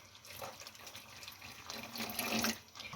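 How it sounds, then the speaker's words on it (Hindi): Hot water pours into dal in a cooking pot, a steady, fairly quiet splashing and gurgling stream that swells slightly toward the end, with no voices. "ठंडा पानी नहीं डालना, गर्म पानी"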